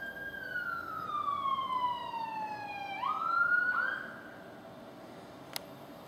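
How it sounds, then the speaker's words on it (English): An ambulance siren wails past at moderate distance, its pitch sliding downward as it goes by, then dropping away; a single sharp click follows near the end. "It's surprising how regularly I see an ambulance come past."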